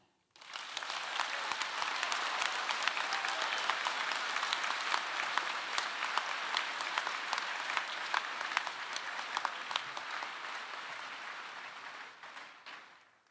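A large audience at a high school graduation ceremony gives sustained applause. Thick, even clapping swells in quickly, holds steady and full for over ten seconds, then tapers off near the end.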